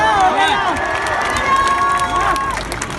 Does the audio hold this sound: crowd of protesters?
yes